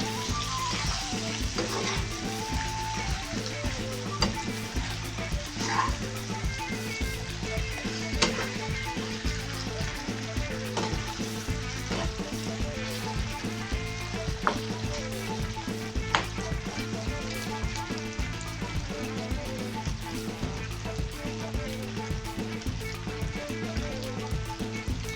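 Chicken frying in a pan while being stirred, a steady loud sizzle with scraping stir strokes throughout, cooked at home with a pineapple juice marinade.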